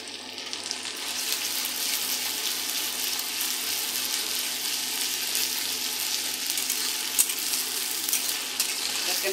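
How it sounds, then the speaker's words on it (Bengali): Spice paste of ground ginger, garlic and green chili fries in hot oil with a dense, even sizzle, a steady close hiss holding at constant loudness without pauses or voices. "দেখেন মশলাটা ভাজা হয়ে গেছে। এভাবে ভেজে নেবেন মশলাটা।"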